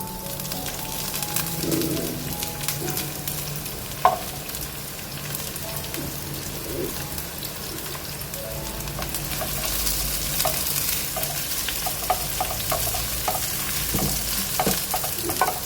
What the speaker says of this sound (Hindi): अब इसमें हम 2 से 3 टेबलस्पून तकरीबन ऑयल का डालेंगे और उसमें हम अपनी प्याज को करेंगे।